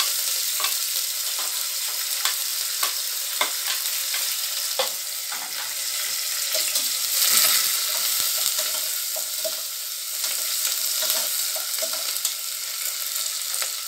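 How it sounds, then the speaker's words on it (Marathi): Onion frying in oil with two red chillies, curry leaves and whole spices for a prawn pulao, a loud bright sustained sizzle with scattered crackles and a swell midway, close up and without speech. "कांदा देखील टाकून घेणार।"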